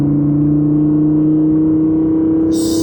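A 2017 Audi R8 V10 Plus driven on the road in winter, its engine a steady loud droning hum from inside the cabin, with a brief hiss at the end.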